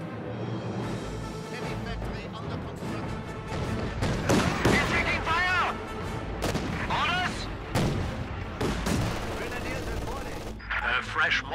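Battle sounds from the game Company of Heroes 2, with rapid gunfire, machine-gun bursts and booming artillery, loud and dense, overlapping with radio-style unit voice lines and other game voices.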